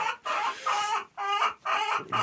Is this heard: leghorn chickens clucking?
yes